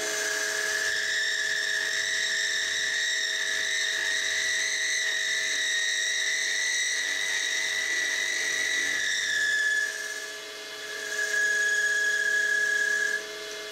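Milling machine cutting clamped wood at 500 RPM, a steady close whine with high tonal ringing that shifts pitch briefly near the end and then settles again.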